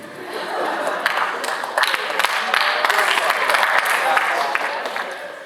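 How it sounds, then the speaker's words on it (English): A comedy-show audience breaks into applause, a dense wash of clapping that swells and sustains for several seconds, with scattered laughter mixed in. "Every guy that just clapped has had that situation."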